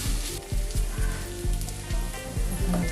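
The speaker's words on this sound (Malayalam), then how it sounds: "ഉള്ളി ഏകദേശം നന്നായിട്ട് വഴണ്ടിട്ടുണ്ട്" Onions with ginger garlic paste sizzle steadily in a pan while a spoon scrapes and stirs in a regular rhythm, close and fairly loud with no talk.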